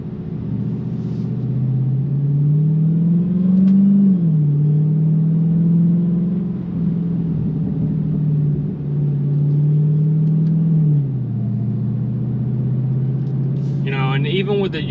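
A Dodge Challenger Hellcat Redeye V8 rumbles steadily nearby, its deep engine note rising in two swells before settling back to idle, heard on its own without talk.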